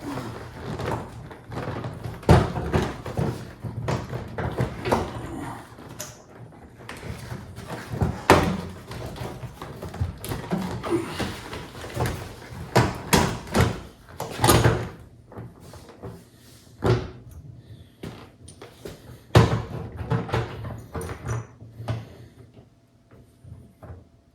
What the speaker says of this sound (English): just lift up on the door panel